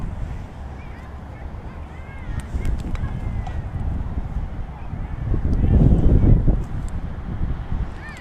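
Wind gusts rumble across the microphone while a power kite is being launched, building to a louder roar near the end, with faint rustling and occasional light clicks.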